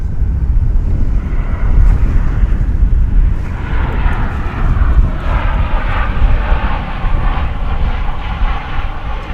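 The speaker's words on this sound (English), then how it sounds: "That is American 1365, a flight coming in from El Paso out in West Texas." American Airlines flight 1365 from El Paso arrives at DFW airport, its jet engines a loud steady roar that swells and rumbles throughout, with wind buffeting the microphone.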